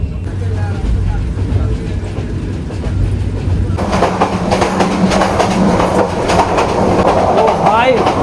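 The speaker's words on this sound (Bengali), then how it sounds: "মারাত্মক হারে ট্রেন কাঁপছে।" Passenger train on the Chittagong to Dhaka line running hard and shaking on its rails, a loud, steady rumble and rattle that grows denser and harsher partway through, with clattering wheel noise throughout.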